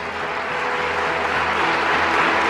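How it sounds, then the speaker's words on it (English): An audience at a Port Authority board meeting applauds steadily, a dense, even wash of clapping that swells slightly and carries on without any talk over it. "Round of applause."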